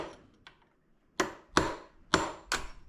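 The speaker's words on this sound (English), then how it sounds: "just take you a punch and go in here with a hammer" Four sharp metallic hammer taps on a steel punch, driving at a Kawasaki motorcycle rear drive shaft, spaced unevenly about half a second apart after a couple of faint knocks, close and clear with no talk.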